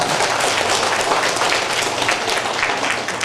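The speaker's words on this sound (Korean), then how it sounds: "박수로 맞아야 주십시오." A crowd at a national sijo singing competition in Hongseong breaks into sustained applause to welcome the county governor, a dense, even wash of clapping with no speech.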